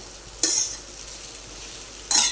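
Okra (bhindi) with spices stir-fries in a pan under a soft, steady sizzle, broken by two brief, bright scraping stirs of a spatula.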